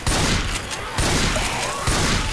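Rapid bursts of gunfire in Left 4 Dead 2, loud and close, in repeated volleys with brief gaps between them.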